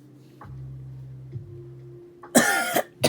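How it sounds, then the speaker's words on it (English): Coughing from an anime fighter who has been stabbed in the stomach and brings up blood: a low strained groan, then a harsh wet cough burst followed by a shorter one. "coughed up blood"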